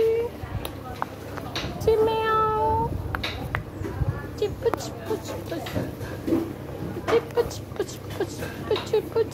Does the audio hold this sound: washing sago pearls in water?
no